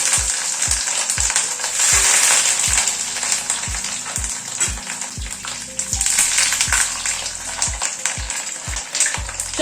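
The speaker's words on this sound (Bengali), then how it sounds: "চপগুলোকে উল্টে পাল্টে ভেজে নিচ্ছি।" Breadcrumb-coated chops sizzle steadily in hot white oil in a wok, a constant bright frying hiss broken by regular low knocks as they are turned.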